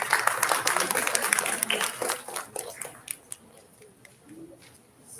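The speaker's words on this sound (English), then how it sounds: "Round of applause for this school as well." Audience applause for a school's representatives at a youth ideathon finals, clapping that is fairly full at first, then thins to scattered claps and fades out.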